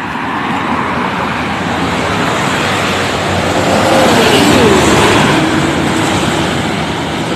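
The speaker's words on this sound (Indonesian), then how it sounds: "Sudah melintas 2 unit PO Haryanto angkatan pagi dari barat ya." Two PO Haryanto buses pass along the road, a loud, broad roadway rush that swells as they go by and then eases, with no talk.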